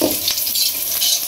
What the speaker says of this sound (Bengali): তো মুড়ি ভাজার লাগে পেঁয়াজ কাঁচামরিচ আগে ভাজা